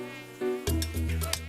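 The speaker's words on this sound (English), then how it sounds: "It was a mosquito." A mosquito whines with a steady, high, nasal buzz that swells as it comes nearer, joined by rougher, louder buzzing and faint patter partway through.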